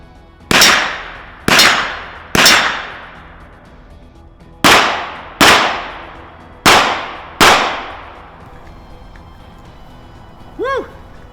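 Seven loud, sharp gunshots ring out with metallic clangs as rounds strike a steel target from a kneeling position, fired in uneven groups with a brief gap, each shot leaving a short ringing decay; a voice comes in briefly at the end.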